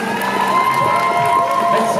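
Audience at an outdoor cosplay show parade cheering and whooping loudly, a dense steady crowd roar with shouts rising over it throughout.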